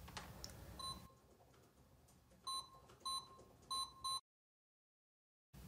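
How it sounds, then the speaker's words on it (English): A sequence of short electronic beeps from an indoor/outdoor strobe alarm siren confirming pairing: one early, then four evenly spaced bright beeps, followed by silence. "If the pairing is successful, the siren will beep."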